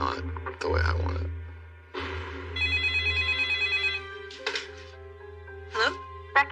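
A phone bell rings in a steady trilling burst for about a second and a half, set among spoken lines and low hum in a dramatized true-crime scene.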